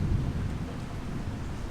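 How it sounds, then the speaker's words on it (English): Thunder rolling as a brief, low, continuous rumble under a wash of steady rain, heard alone with no voices. "Give me lightning."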